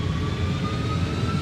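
Steady, even roar of an MD-11's jet engines held at 50% throttle with brakes set in the X-Plane 12 flight simulator, a continuous hum with a thin high whine and no voices.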